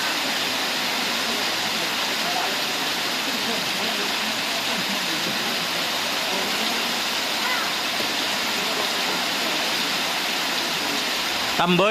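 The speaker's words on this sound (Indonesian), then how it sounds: "suasana hujan-hujan ini" Rain falls steadily at a cattle racing practice ground in Asemanis, Pamekasan, a dense, even wash of hiss with faint voices underneath.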